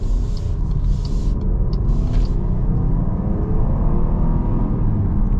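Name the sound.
2024 Jeep Grand Cherokee accelerating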